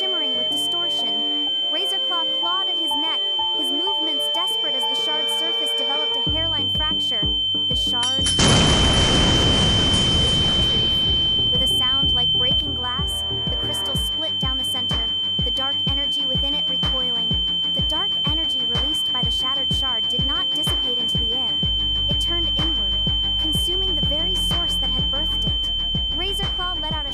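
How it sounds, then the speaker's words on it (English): A crystal shard gives off a steady, piercing metallic whine that holds across the whole stretch beneath layered music, broken midway by a loud, roaring burst. "It emitted a high-pitched, metallic whine that set the teeth on edge."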